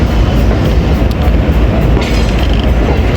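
The Karachi Express passenger train runs on rails between Multan and Lahore, a loud continuous rumble and roar of wheels heard from on board, with faint higher rattles and no talk.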